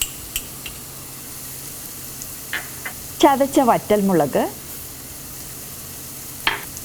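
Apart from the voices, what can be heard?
onions sautéing with spices in pan, jackfruit seed stir fry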